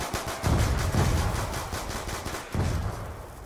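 Rapid gunfire mows down a zombie horde at the Bus Depot in Black Ops 2 Zombies, loud bursts of automatic shots in a continuous rattle with a short pause before a final volley.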